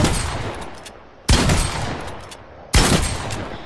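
A pump shotgun fires twice in the Fortnite video game, each blast a sharp, loud crack followed by a decaying tail, spaced about a second and a half apart with no talk.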